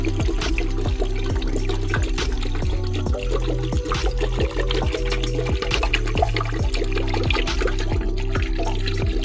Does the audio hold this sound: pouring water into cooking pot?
yes